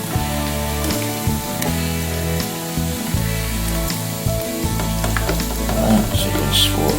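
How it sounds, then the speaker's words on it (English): Onions hit a hot pan for a curry shrimp stir fry with bean sprouts, giving a loud, continuous sizzle with occasional spatula clinks and crackles, close up and without speech. "And then we'll add the onions."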